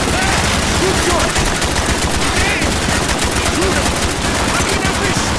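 Continuous, loud machine-gun fire from the Call of Duty: Black Ops video game, a dense unbroken rattle of rapid shots filling the whole stretch, with battle noise and soldiers' shouting mixed in.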